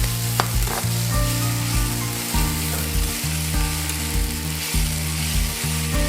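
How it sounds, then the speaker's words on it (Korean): Half-boiled noodles stir-frying in plenty of oil for an addal sauce dish, hissing steadily in the pan over a low, constant mechanical hum, with occasional light stirring knocks; close and even throughout, with no talking. "이제 덜 삶아진 면을 넣어줍니다."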